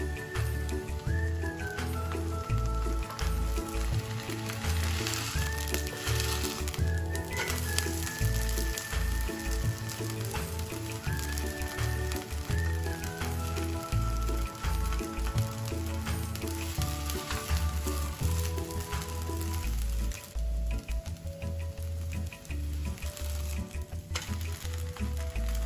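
Batter mixed with anchovy roe sizzles steadily in a pan, a continuous close frying hiss that runs under background music.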